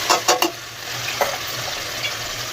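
Onions sizzle in hot oil with ginger garlic paste and chillies, a steady frying hiss under a few quick scraping stirs of a spoon against the pan, close and clear with no talking.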